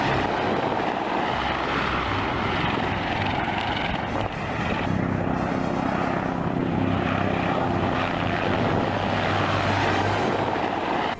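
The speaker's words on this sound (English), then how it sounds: "Extremely low overflight by a pair of Ukrainian Mi-8 helicopters" Loud rotor and engine roar from a pair of Mi-8 helicopters passing extremely low overhead, a steady thudding drone that swells and shifts as they fly by.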